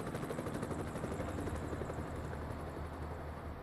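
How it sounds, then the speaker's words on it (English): A steady, droning helicopter rotor thrum in the video game American Truck Simulator fills the scene continuously, fairly loud and close, with no talking. "I don't think I've ever heard a helicopter so much"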